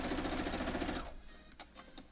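A sewing machine runs fast, stitching a foundation paper pieced quilt block with a steady mechanical rattle for about a second before stopping, then a few faint clicks follow.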